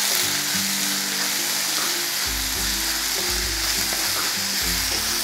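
Two medium onions, finely chopped, sizzle loudly and continuously in hot oil with cumin seeds, with occasional low stirring thumps from a pan and no voices.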